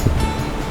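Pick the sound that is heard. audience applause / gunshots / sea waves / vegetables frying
sea waves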